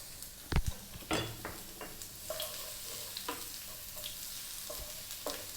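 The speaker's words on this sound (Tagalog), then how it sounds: "At ilalagay na po natin yung ating chopped garlic." Chopped garlic fries in oil in a small pan, a soft low sizzle broken by a few sharp clinks and scrapes of a utensil against the pan, quiet and close.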